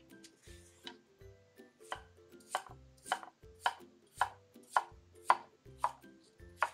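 A knife cuts peeled Chinese yam into small pieces on a board: about a dozen crisp, evenly spaced chops, close and clear, with no talking.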